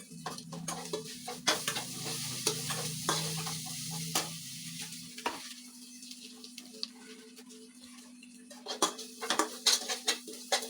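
Potato being stirred and mixed with ginger-garlic paste, chili powder and salt for Bengali aloo chop, with repeated spoon scrapes and clinks against the pot, plus a low hum that stops midway.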